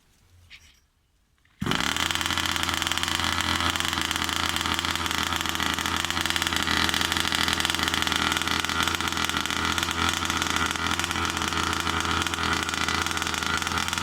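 After a brief quiet moment, a small high-pitched 36cc two-stroke Rovan Baja RC car engine buzzes steadily at idle, loud and close, with a constant raspy drone throughout.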